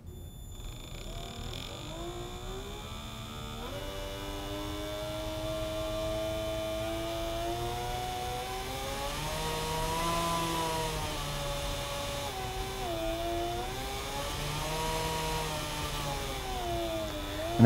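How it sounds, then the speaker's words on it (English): Electric motor of an RC car spinning up and down under throttle from a Spektrum DX3S radio: a steady whining hum whose pitch rises and falls several times, fairly faint and continuous, with no voices. "I'll roll on the throttle. You'll hear the motor kick up in the background"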